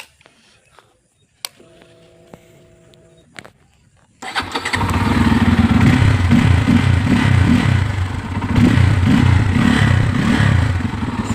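A Bajaj Pulsar F250 motorcycle with a twin-spark engine is started after a few quiet clicks, then its exhaust settles into a loud, close, steady idle with slight rises in revs.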